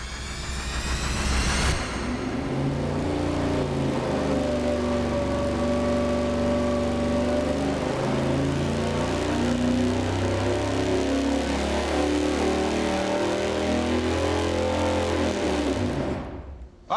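A turbo MoHo 440 V8 engine runs naturally aspirated on a dyno, roaring steadily for about fifteen seconds with shifting tone, then cutting off abruptly.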